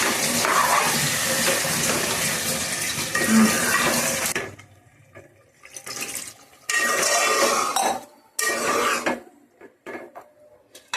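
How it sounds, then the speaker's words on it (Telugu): Water pours in loud splashing gushes into a pot of cooking beef and gongura, first as one long pour, then in several shorter bursts separated by pauses. "ఇందులో వాటర్ పోస్తామండి అప్పుడు ఉడుకుతా ఉంటుంది అనమాట వాటర్ పోస్తాం ఇప్పుడైతే"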